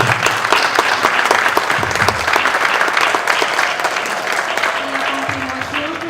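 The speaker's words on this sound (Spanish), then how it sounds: "Así que les pido un aplauso, pero para ustedes." A conference audience gives a loud, sustained round of applause at the end of a talk, with thick overlapping clapping that stays steady for about six seconds.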